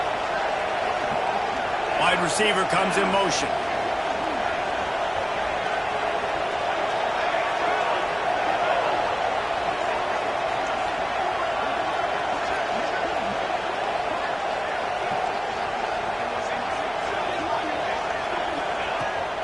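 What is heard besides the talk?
deafening football stadium crowd at Auburn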